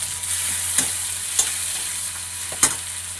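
Tomato frying with onions in oil in a pan gives a steady soft sizzle, broken by a few sharp scrapes and taps of stirring, close and with no voices.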